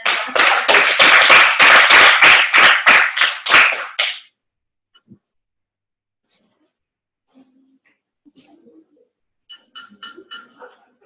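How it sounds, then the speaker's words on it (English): A meeting audience claps in a dense, loud round of applause lasting about four seconds before cutting off, followed by faint scattered taps and clinks in a quiet room. "give yourselves a round of applause"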